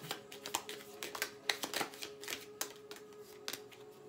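Tarot cards are shuffled by hand, a rapid run of crisp riffling flicks and taps in uneven bursts, close and quiet with no talking.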